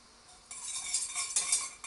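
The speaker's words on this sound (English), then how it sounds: "So melt the butter." Butter melting in a pan in a home kitchen, a soft hissing sizzle that rises after a brief quiet start and continues steadily, close and fairly faint, with no voices.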